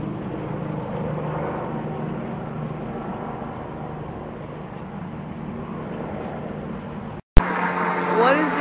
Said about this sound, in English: What is this helicopter doing?